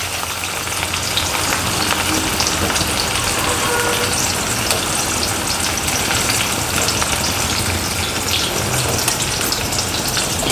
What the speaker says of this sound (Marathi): आता मोहरी आणि जिरं छान तळतळायला लागलं, हा आपण कांदा घालून घेऊ